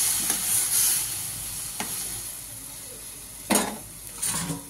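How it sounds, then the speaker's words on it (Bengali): Mango chutney sizzling in a pan as a little water is added, giving a steady frying hiss with a sudden sharper splash-sizzle burst and light clinks of a utensil against the pan. "এবার আমি দিয়ে দেবো জল অল্প করে, আমটা সেদ্ধ হওয়ার মতন।"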